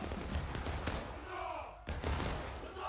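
Musket volleys crack across a War of Rights battlefield, a dense run of overlapping shots through the first second and again after a brief lull, with shouted commands mixed into the din.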